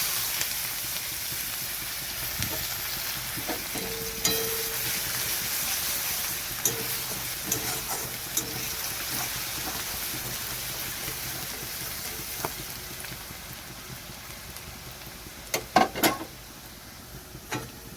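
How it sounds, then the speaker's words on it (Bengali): Chopped garlic sizzles steadily in hot oil, a continuous close hiss with occasional light clicks and scrapes from stirring toward the end. "তেলটা গরম হয়ে গেছে, তো এখানে আমি দিয়ে দিচ্ছি রসুন কুচি।"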